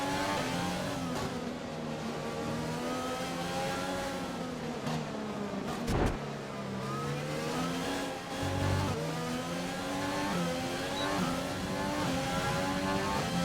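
A Formula 1 race car engine in the F1 2020 video game at the Vietnam Grand Prix whines steadily as it accelerates, its pitch climbing and dropping through gear changes, loud and continuous throughout.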